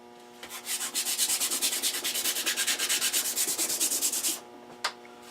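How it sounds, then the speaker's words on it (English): A wooden rifle stock with grain raised by water is hand sanded in rapid, even back-and-forth strokes, a close, rhythmic scratchy rasp that stops abruptly, followed by one brief knock. "You have to do a little extra sanding."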